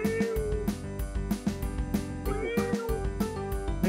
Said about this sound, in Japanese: え、猫いる。